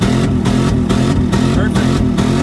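A cold Jeep engine revs hard at wide open throttle on a freezing day, a loud, close, steady roar with rhythmic pulsing throughout.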